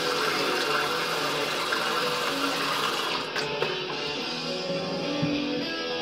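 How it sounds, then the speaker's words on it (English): Water running and splashing as a face is rinsed during a wet shave, a steady close gush of tap water with small splashes, and the flow easing slightly midway. "To rinse the face."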